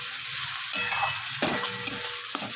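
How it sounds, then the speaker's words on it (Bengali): Onions frying in a pan, with a soft steady sizzle and a few brief scraping stirs. "এবং পেঁয়াজটা বসিয়ে দিয়েছি ভাজতে।"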